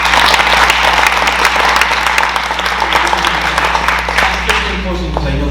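Loud sustained audience applause for a guest speaker at a school district community learning night, dense clapping throughout that thins slightly toward the end, with a low hum underneath.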